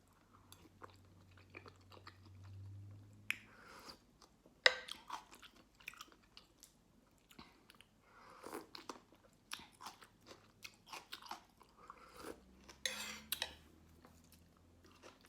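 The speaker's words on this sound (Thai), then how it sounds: "มากินกันอืมลูกชิ้นหมูเฮ็ดเองเนี่ยเฮ็ดใหม่ ๆ เลย" Someone chews freshly made homemade pork meatballs close to the mic, with soft irregular bites, wet smacks and crunchy clicks scattered throughout against a quiet background.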